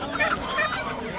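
Chickens and roosters clucking at a busy poultry market in Shahrixon, a short burst of nearby clucks mixed with market noise and people talking.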